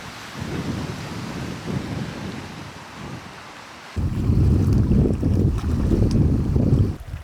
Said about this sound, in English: Bad storm last night, and still coming on strong.